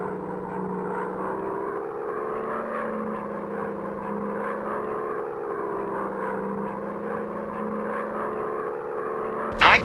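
World War II fighter plane engines in a dogfight video game, an F4U-4 Corsair among them: a steady, droning propeller whir that holds at an even loudness throughout, with a brief louder burst right at the end.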